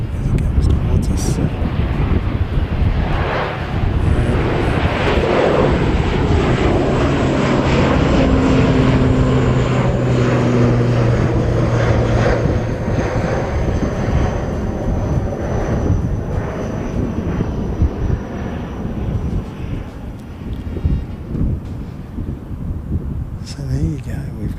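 A United airliner taking off from an airport, with a loud, sustained jet engine roar and rumble that swells and then slowly fades, mixed with wind buffeting the microphone and people talking over it.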